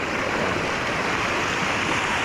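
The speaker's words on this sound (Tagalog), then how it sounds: "Lakas tubig! Yan. Lakas ang tubig, oh." Floodwater from overnight rain rushes hard and steadily, a dense, loud and continuous roar with no break and no voices.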